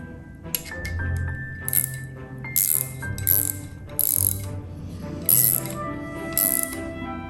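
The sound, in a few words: tightening bolts on rear axle assembly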